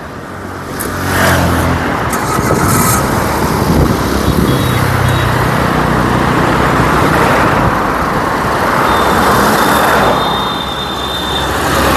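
A container truck carrying a 2011 Toyota Etios Liva G pulls away, its engine rumbling loudly and steadily up close amid broad road noise, with a few faint high beeps mixed in.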